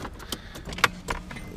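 Keys jangling and clicking as they turn in a car's ignition, a few sharp metallic ticks and rattles close by over a low background hum.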